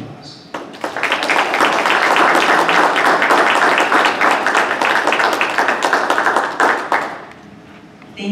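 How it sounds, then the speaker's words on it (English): Applause from an audience at a school district board of education meeting, honouring the board trustees: sustained clapping for about six seconds that swells quickly, holds, then fades away. "let's just give them a nice big round of applause"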